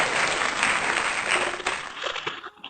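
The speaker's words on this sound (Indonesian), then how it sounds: "Tepuk tangan buat Harian." Audience applause fills the space, a sustained wash of many hands clapping that holds steady and then tapers off near the end.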